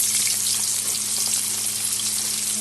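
Small potato pieces frying in hot oil with a bay leaf and whole cumin, a steady close sizzle holding evenly throughout with no voices.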